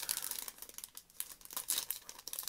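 A small plastic packet is opened close by, crinkly rustling and tearing in short irregular bursts with a brief lull midway.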